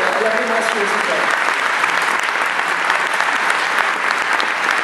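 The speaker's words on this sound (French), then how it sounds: "Parce que Julie, je pense qu'on peut l'applaudir parce qu'elle a vraiment assuré ce soir." A theater audience at the opening night of the Clermont-Ferrand International Short Film Festival claps in sustained, dense applause, loud and steady throughout, with a faint voice audible at the very start.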